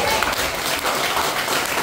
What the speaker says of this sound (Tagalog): Palakpak po tayo.